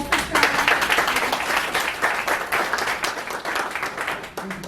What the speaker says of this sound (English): So just a round of applause for Charles.